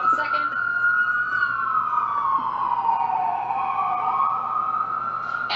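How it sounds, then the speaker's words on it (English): An ambulance siren sweeps up and down in a slow wail as it passes close by, loud and continuous throughout, with no one speaking over it. "there's an ambulance going by right now"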